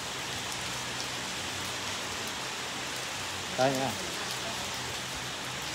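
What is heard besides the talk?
rain falling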